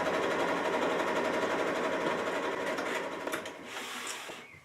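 A sewing machine top stitching a Japanese knot bag with a lengthened stitch, running in a steady continuous whir at close range, then slowing and easing off near the end.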